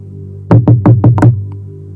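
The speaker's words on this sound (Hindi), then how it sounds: "अचानक दरवाजे पर धीमी दस्तक हुई" Five soft, evenly spaced knocks on the door of a small rented one-room flat at night, close and distinct, with a faint extra tap after them.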